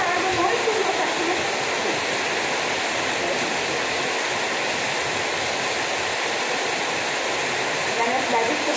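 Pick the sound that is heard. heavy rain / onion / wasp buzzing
heavy rain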